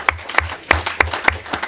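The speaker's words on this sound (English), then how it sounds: "give these folks another round of applause" Sparse, loud hand claps from a small group at a city event, about six sharp claps in an uneven rhythm, close and distinct rather than a full crowd roar.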